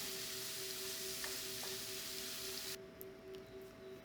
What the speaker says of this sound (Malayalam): ഇതൊക്കെ ഒന്ന് നല്ല പോലെ വഴറ്റി എടുക്കാം.